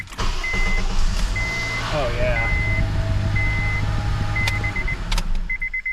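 A 2011 Honda Accord engine cranks briefly and starts right up, then settles into a steady, close idle with faint electronic chimes over it. A man gives a short exclamation.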